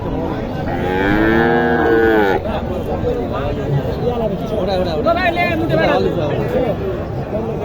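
A Sahiwal or Gir heifer lets out a long, loud moo at a cattle market, and crowd chatter and voices continue around it.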